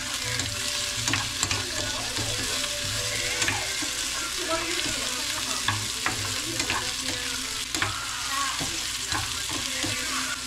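Corned beef with plenty of onions frying in a pan, a continuous loud sizzle broken by scraping stirs and occasional clinks of the utensil against the pan, with no talking.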